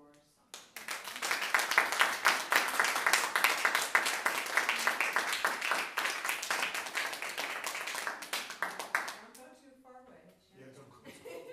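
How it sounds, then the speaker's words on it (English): Audience at a thesis defense breaking into a long round of applause, dense clapping that holds steady for about nine seconds before fading, followed by a few voices. "send everyone out after another big round of applause for Sandra"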